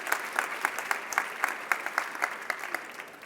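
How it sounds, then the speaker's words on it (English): A teachers' audience claps for themselves in a brisk, fairly even rhythm, many hands together in a roomy hall at moderate volume with a faint crowd murmur. "Lovely, you clap yourselves for that"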